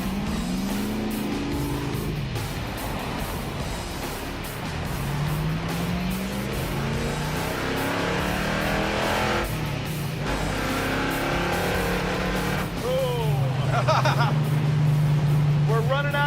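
The Wreck Runner, a battery-ignition project car, cruising down the highway with a continuous engine and road drone, wind rush and shifting tones, while people talk over it throughout.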